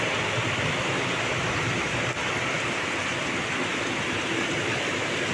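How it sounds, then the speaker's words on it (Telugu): Heavy rain pours down in a steady, dense roar that stays loud and unbroken throughout, with no voices over it. "వర్షం ఇవాళ చాలా గట్టిగా ఉంది"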